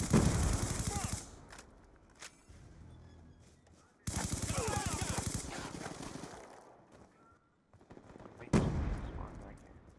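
Gunfire in Call of Duty: Black Ops II: bursts of rapid automatic shots in three loud clusters separated by quieter gaps, close and sharp, with players talking over some of the firing.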